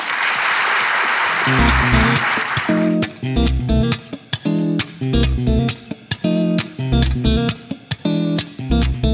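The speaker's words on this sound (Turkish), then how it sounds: "Coşkun alkış!" Studio audience on a Turkish comedy talk show bursts into loud, dense applause for the first few seconds, then a punchy, rhythmic music track with heavy bass beats cuts in and carries on alone.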